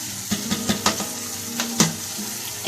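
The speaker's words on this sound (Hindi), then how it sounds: "2-3 मिनट तक इसको मसाले में अच्छे तरीके से फ्राई कर लें और फिर हम इसमें मेथी डालेंगे।" Mixed vegetables frying in masala in a pan with fenugreek being added, a steady low sizzle broken by several sharp stirring clatters at an uneven rhythm, close and moderately loud.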